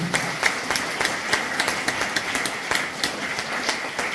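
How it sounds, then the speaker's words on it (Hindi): A seminar audience claps loudly and steadily, a dense continuous patter of many hands filling the room for several seconds with no voices over it. "जिनको लग रहा है अपने लिए जोरदार ताली बजाइए"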